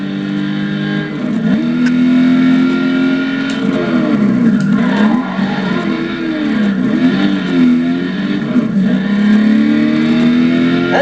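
Ford Shelby Mustang GT500 engine revving loudly with a raw, unmuffled exhaust, pitch rising and dipping through repeated throttle blips over about eleven seconds, with no voices.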